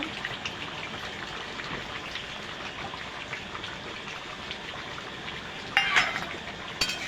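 Chicken curry with garam masala being stirred in a pot makes soft continuous bubbling and shuffling, then a sharper metallic scrape and clink of the spoon near the end.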